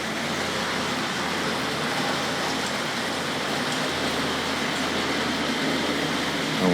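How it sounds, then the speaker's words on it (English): A Hornby class 31 model locomotive trundles around layout track at a model railway collectors' show, a steady continuous rolling rumble with a low hum, heard at a moderate distance amid broad hall noise. "You can hear the class 31 still trundling around in the background."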